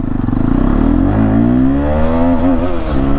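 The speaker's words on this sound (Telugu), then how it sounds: "210cc liquid cooled DVS engine అనమాట" A motorcycle with a 210cc liquid-cooled DVS engine revs up loud and close, its pitch climbing steadily through acceleration with a slight wobble near the end. No one speaks over it.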